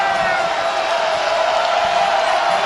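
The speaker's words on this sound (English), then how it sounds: "the crowd gets into it" Crowd at a Cal State Fullerton at Hawaii basketball game roars with a sustained wash of cheering and whooping, steady and loud, with an announcer talking over it.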